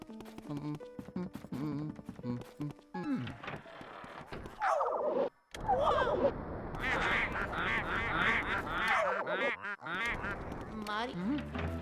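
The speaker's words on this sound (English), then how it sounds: "They sound like birds." Bird-like quacking and honking calls in Luigi's Mansion, busy overlapping squawks that fill most of the stretch at close, loud level, with a short silent gap midway.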